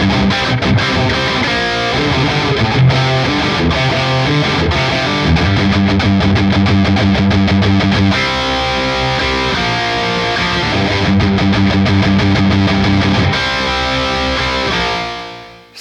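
Heavily distorted electric guitar riffing on a Gibson Victory with high-output 80s-style humbuckers, dense and loud throughout, with chugging low notes and sustained chords, no voice over it.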